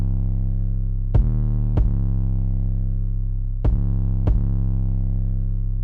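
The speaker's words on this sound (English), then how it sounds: "The drums are going to sound like this." A dark trap beat built on a sustained booming 808 bass, punctuated by two pairs of sharp percussive hits that fall in a steady rhythm, loud and alone.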